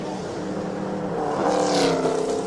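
A year-2000 Supercar V8 race car powering up a hillclimb course, its engine note building steadily and growing louder as it nears, with a brief higher-pitched rise near the end.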